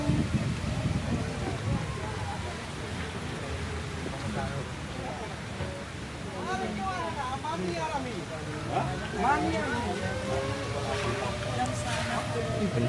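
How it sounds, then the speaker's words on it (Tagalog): An outdoor water fountain splashes in a steady, broad hiss that fills the background, as rain falls, while several people talk nearby. "Wow, fountain."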